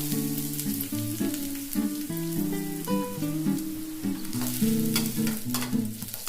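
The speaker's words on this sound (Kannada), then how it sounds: "ಈರುಳ್ಳಿ ಕೂಡ ಸ್ವಲ್ಪ ಫ್ರೈ ಆಗಲಿ." Onion frying in a pan for veg momo stuffing, a continuous close sizzle with stirring scrapes, while music plays over it.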